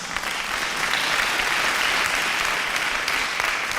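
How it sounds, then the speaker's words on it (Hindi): Contestants on a televised Pakistani talent show applaud themselves, a steady, dense wash of clapping that holds evenly throughout without any talk. "तो आप लोग अपने लिए तालियां बजा सकते हैं।"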